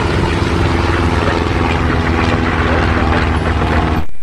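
A voice imitates a toy airplane taking off, making a loud, close, breathy whooshing roar that holds steady for about four seconds and then cuts off abruptly.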